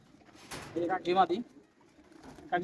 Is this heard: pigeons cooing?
yes